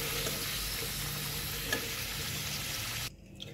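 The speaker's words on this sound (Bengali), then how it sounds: "ভাজা হয়ে গেছে, তুলে নেব।" Large chunks of potato deep-fry in hot oil without salt or turmeric, giving a steady, loud sizzling hiss that cuts off abruptly near the end.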